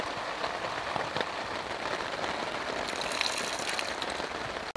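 Heavy rain pours steadily in the Canadian Rockies outdoors, a dense, constant hiss of drops drumming on surfaces with no pauses or voices.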